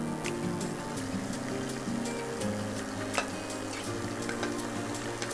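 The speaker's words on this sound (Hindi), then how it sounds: "ये हमारा लहसुन फ्राई हो रहा है और मिर्च भी।" Garlic, green chilies and thickly cut onions fry in hot oil in a pan, a steady close sizzle with occasional sharp crackles and spoon stirs, with no talk.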